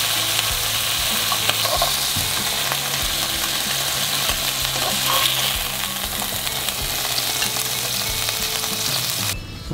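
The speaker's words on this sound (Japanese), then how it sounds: "もうある程度で一度揚げていきます。" Tuna skewers deep-frying in hot oil, a loud, dense, continuous sizzle and crackle close up with no talking over it.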